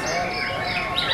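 A white-rumped shama sings at a crowded bird-song contest arena, its bright chirping phrases mixed into a dense wash of other birds and background chatter.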